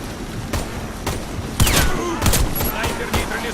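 Gunfire in the Warface video game, sniper action: a rapid run of sharp, loud shots and bursts with whistling bullet streaks cutting through, dense and close.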